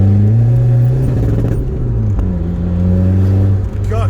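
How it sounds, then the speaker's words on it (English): Engine of a modified VW Polo drones loudly at high revs, holding a steady, buzzing note with slight dips in pitch, heard close and from inside the car as a rumbling, sustained roar. "rev limiter again."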